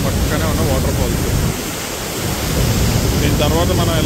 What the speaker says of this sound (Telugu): ఇది పక్కనే ఉన్న వాటర్ ఫాల్స్